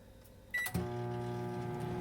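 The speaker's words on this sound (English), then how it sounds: "I'm just going to plop this into a microwave. And into the microwave they go." A microwave oven starting up to heat frozen peas: a short beep-like tone and click, then a steady low electrical hum that continues, close by and alone.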